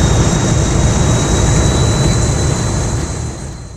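A train engine in Train Sim World running at full throttle on the West Somerset line, a loud broad roar with a steady high whine that eases slightly at the end.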